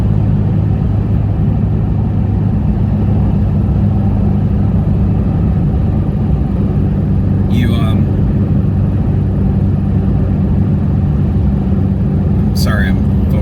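Cabin of a car on the road, filled with a steady, continuous low engine and road rumble that stays even from start to finish.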